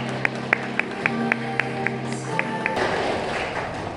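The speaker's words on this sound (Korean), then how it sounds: "행복할 두 사람을 위해 다시 한번 큰 박수 부탁드리겠습니다" Applause for the bride and groom at a wedding ceremony, heard as a run of crisp, evenly spaced claps over sustained background music, fairly close.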